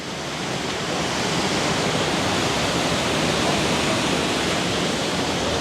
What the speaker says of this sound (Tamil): எப்படி தண்ணி பாஞ்சு கொண்டு இருக்கு.